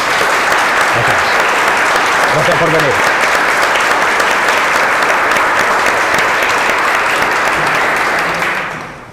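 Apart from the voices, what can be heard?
audience applause at a book presentation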